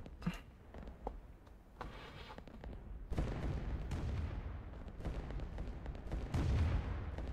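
Artillery bombardment in the Rise of Nations strategy game: repeated low booms and scattered gunfire rumble at moderate volume. Several thuds come close together, and the barrage grows denser and heavier toward the end.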